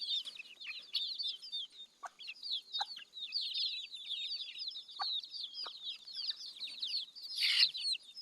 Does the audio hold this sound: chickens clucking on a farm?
yes